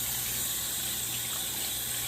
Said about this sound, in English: So I'm just going to rinse this off.